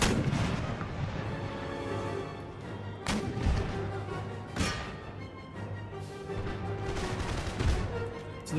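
Cannons fire across an Empire: Total War siege battle at St Petersburg, several heavy booms at irregular intervals over a continuous roar of distant battle noise.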